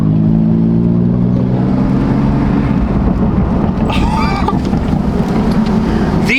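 Turbocharged BMW M4 fitted with front-mount intakes, its engine droning loud and steady with rising tones, then a brief burst of whooshing turbo spool and flutter near the end, with wind noise throughout.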